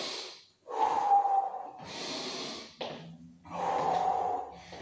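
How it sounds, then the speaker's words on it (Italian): Heavy, forceful breathing during a home bodyweight HIIT workout: three long, loud huffing breaths, each separated by a short pause, rasping close to the mic with no talk over them. "respirazione sempre attiva, naso, bocca."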